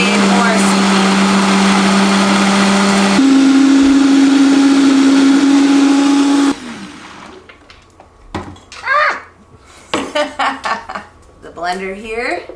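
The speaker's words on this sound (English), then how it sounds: "The blender here." A blender purees butternut squash soup, running loud and steady for about six seconds as a strong motor whine, then cutting off before clattering kitchen sounds and scraping.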